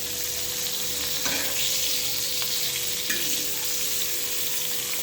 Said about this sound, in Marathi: मी तेल घातलं होतं याच्यामध्ये या कारल्यामध्ये आपल्याला याचं थोडंसं अधूनमधून असं खालीवरती करायचं आहे